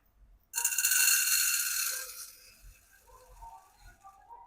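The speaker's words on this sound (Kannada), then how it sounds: "ಈಗ ಬೇಳೆ ಹಾಕೋತಾ ಇದ್ದೀನಿ" Dry lentils for sambar pour into a pot in one rush, a bright rattling patter lasting about two seconds that thins to a few scattered grains and faint clinks, close and alone.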